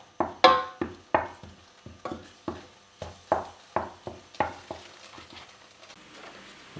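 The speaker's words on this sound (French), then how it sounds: "on va laisser fondre un petit peu le beurre et je vais venir mettre tout de suite mon ail pour qu'elle prenne un petit peu" Garlic cooking in melted butter in a pan, stirred in a steady rhythm of about a dozen close scraping strokes over a soft sizzle, with no talking.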